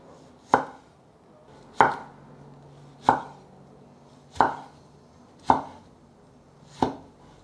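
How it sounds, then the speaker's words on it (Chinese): A knife slicing through a tomato on a cutting board, six sharp separate chops spaced about a second and a quarter apart, close and clear against a quiet background. "把番茄切成片状。"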